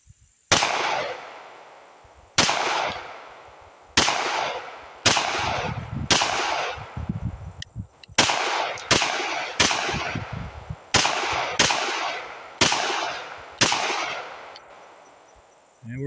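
Girsan MC P35 pistol fired with custom grips, about a dozen sharp, loud shots in uneven clusters at close range, each with a short decaying ring.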